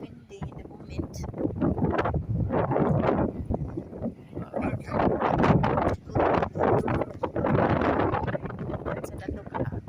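Strong wind buffets the microphone at the Lyttelton port lookout in Christchurch, New Zealand, on a windy afternoon, loud gusty rumbling rising and falling throughout with a person talking intermittently underneath.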